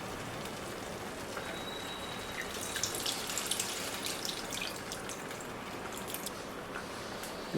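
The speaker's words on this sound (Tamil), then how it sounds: "நான் புளித்தண்ணி சேர்த்துக்கிறேன்" Tamarind water splashes and pours steadily into a hot pan of masala, hissing and sputtering as it lands, close and moderately loud.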